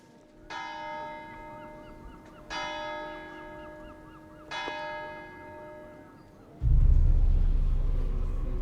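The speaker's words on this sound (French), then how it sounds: "Alors là, je viens d'entendre la cloche" Three strikes of a church bell at the Mont Saint-Michel abbey, each a bright ringing tone decaying slowly, spaced about two seconds apart, followed by a loud low rumble of wind or handling noise.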